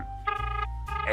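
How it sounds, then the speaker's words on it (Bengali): A telephone rings in an animated comedy, a steady tonal ring that swells and repeats in two close, loud bursts with no talking. "রিং হচ্ছে।"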